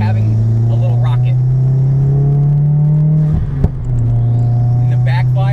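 A tuned Stage 2 car engine drones loud and close while driving, holding a steady low hum with a brief dip and pop around a shift before settling back.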